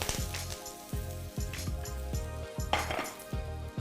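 Onion is stir-fried in smoking hot oil in a wok for black bean beef hor fun, with a metal spatula clanking and scraping against the wok in a quick, regular rhythm.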